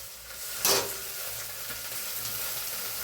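Onions browning in a pan with steady frying and sizzling, plus one brief louder scrape or stir near the start, close and alone with no voices.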